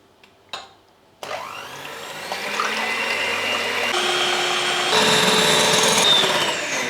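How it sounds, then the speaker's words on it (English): An electric hand whisk whips egg whites for a pavlova, starting after a couple of brief knocks with a steady, loud whirring drone that holds and rises slightly in pitch as the mixture thickens. "here is my electric whisk, and I'll start blending these together and mixing them"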